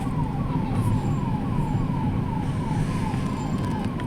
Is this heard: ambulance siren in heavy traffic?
yes